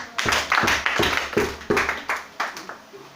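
A church congregation clapping in unison to acclaim Jesus Christ during a service: about a dozen sharp, rhythmic group claps at a steady beat, close and loud, trailing off at the end.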